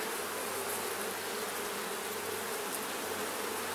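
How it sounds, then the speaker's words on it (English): Honey bees swarm a heavy, capped honey frame lifted from a queenless hive with no eggs or brood, producing a dense, steady buzzing hum up close, with no talking. "A lot of bees on there."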